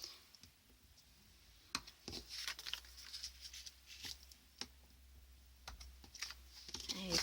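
Short dry scraping strokes and sharp clicks come from a scoring tool run along paper for a handmade gift box, several quick passes in an uneven rhythm, faint and close.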